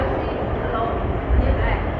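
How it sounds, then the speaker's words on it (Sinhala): Broad rumbling noise of a Singapore MRT metro train fills the clip, with a low swell near the end as the train draws closer into the station, a steady station hum throughout. "ඊළඟ ට්‍රේන් එක දැන් එනවා."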